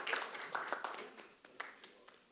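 An audience applauds at a panel session on IP licensing and technology transfer as panelists come on stage. The clapping is modest and fades over a couple of seconds.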